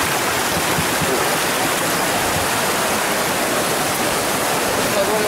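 Broad, steady rush of a rocky river flowing on the trek toward Trumon waterfall, a constant loud wash of water with no breaks, close by and alone.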